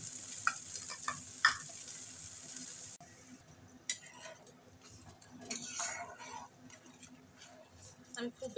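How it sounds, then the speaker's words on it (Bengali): A spice paste with turmeric is sautéed and stirred in a pan for a Pabda fish curry, giving a soft background sizzle with intermittent scraping and clinks, and quiet speech comes through at times. "মশলাটাকে খুব ভালো করে কষিয়ে নিতে হবে।"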